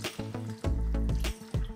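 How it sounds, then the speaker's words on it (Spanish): Water pours into a pot of broccoli in short gushes and splashes, close and moderately loud, with a few clanks from the pot between pours. "Vamos a aumentar agua para cubrir el brócoli."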